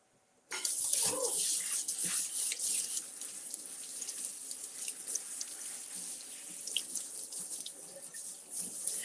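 Lettuce leaves are washed under a running tap, the water gushing on abruptly and then splashing steadily and close for several seconds.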